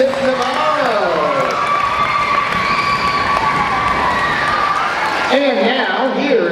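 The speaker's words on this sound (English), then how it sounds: "Let's meet and give a round of applause for Jada Smith-Navarro." An audience of children and adults at an elementary school Black History Month event cheers, shouts and claps loudly for a student, with high excited voices and whoops rising over a dense crowd roar.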